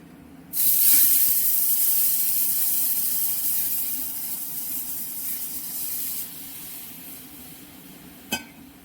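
Lentils for a sour chalta dal hit a hot pan with a sudden loud, steady sizzling hiss that slowly fades over several seconds, ending with a brief sharp clatter near the close.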